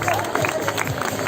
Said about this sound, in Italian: un ultimo applauso a tutte queste ragazze e ragazzi